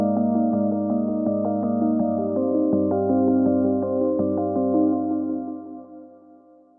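An electric piano from the FL Studio Flex ePiano Life preset plays a three-part melody with a steady low bass pulse under layered chords, sounding clear and close. It holds up throughout, then thins out and fades over the last second or so.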